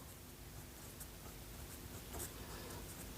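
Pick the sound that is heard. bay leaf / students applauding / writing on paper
writing on paper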